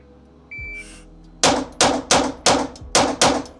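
Six quick shots from an H9 pistol in a fast, even bill drill string, each followed by a bright metallic ring from steel targets, after a brief low rumble.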